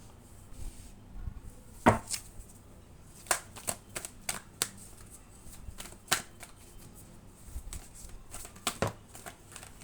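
Tarot cards are shuffled and drawn close by, producing soft, irregular riffling and sharp papery snaps in quick bursts, with pauses between them.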